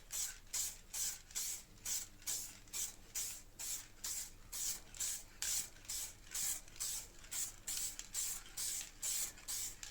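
An aerosol spray paint can recoloring the rear parcel shelf of a BMW E39, heard as a regular series of short, close hissing bursts, about two per second, with no talking.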